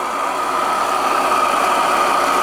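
An RC Anton T200 model steam engine runs with its water pump attached, making a steady, fast mechanical whirr and hum that holds at an even level throughout, with no voices.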